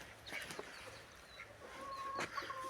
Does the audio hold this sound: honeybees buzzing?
no